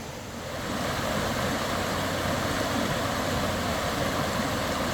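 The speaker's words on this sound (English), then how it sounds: "The sound of the water is just putting me to sleep." Water flows and rushes in a steady, loud, unbroken wash close by, with no voices.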